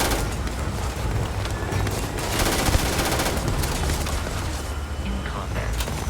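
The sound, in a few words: gunfire in the video game Starfield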